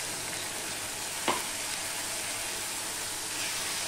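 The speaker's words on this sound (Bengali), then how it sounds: "মশলাটা আমি ভালো করে কষিয়ে নেব" Spice paste frying (kosha) in a pan with a splash of water, a continuous close hiss and sizzle with one brief scrape of the spatula partway through.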